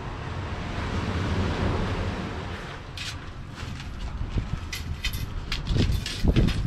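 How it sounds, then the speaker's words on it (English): Gusty wind buffets the microphone on a seashore during shore fishing for gilthead and bass, a loud continuous rumble with surf mixed in and a few sharp knocks near the end. "Wind."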